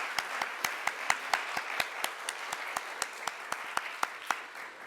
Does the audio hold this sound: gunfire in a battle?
no